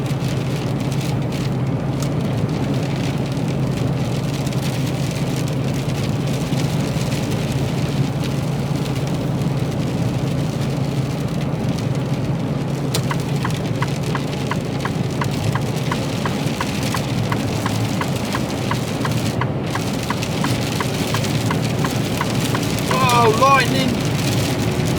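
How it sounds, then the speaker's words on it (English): Steady broadband rain drums on the cab of a Mercedes Actros truck during a UK container haul, a continuous loud wash over low engine rumble, with a brief voice near the end. "Oh, it's rain, go away."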